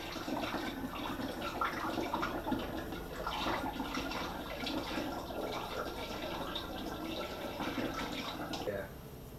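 Homemade gin with juniper berry pulp being poured out, a steady wet splashing and trickling that runs for several seconds under a person's talking, then cuts off near the end.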